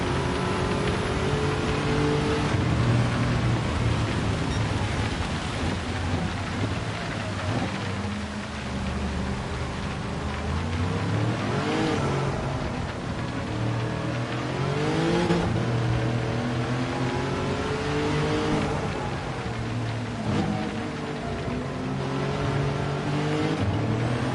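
A truck fitted with a 3UZ engine swap races in Gran Turismo 7, its engine droning continuously and loudly, rising and falling through gear changes over a constant roar of road and wind noise.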